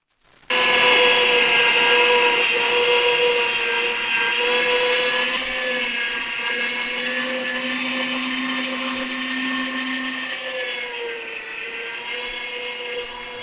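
A meat grinder whirs loudly as it grinds meat with garlic, onion and bell pepper, starting abruptly and holding a steady high motor whine that dips slightly in pitch under load.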